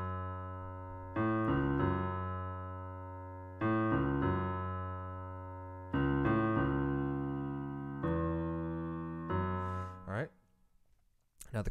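Low piano notes play the repeating bass line of a song in four similar phrases, each note ringing and slowly fading, ending with a short burst of noise.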